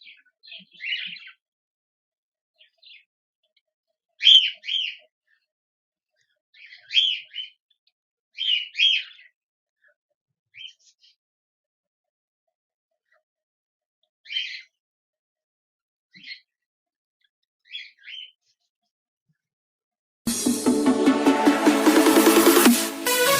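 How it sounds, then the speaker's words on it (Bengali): Caged Java sparrows give short, separate chirps in small bursts with quiet gaps between them, close and clear, before a loud burst of music cuts in near the end. "আপনাদের খাঁচায় পোষা পাখিগুলো"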